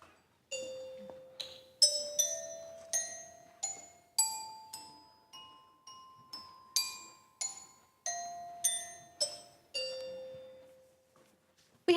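Kindergarten children at a primary school music performance play a scale on hand bells, about fifteen separate bright rings that step from low to high and back down, each ringing out and decaying in the quiet room.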